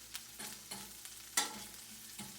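Chorizo starting to sizzle in a pan, a faint hiss punctuated by a handful of soft spattering pops and scrapes at irregular intervals, with no talking.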